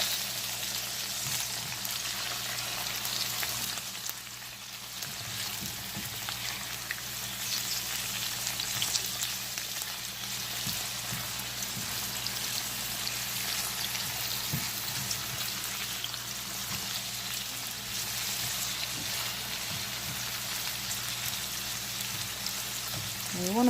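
Golden squash slices frying in a pan, a steady, dense sizzle and crackle that continues evenly throughout, close and fairly loud, with occasional soft clicks of handling.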